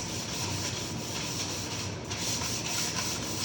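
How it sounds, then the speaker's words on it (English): Hand sanding of wooden end table legs, a steady, continuous abrasive rubbing that holds at an even level throughout, close and alone without talk. "just give it a little sanding"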